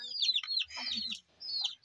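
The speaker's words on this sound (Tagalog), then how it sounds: "yan manok" Several chickens cluck and squawk close by in short, bright bursts with brief pauses between them.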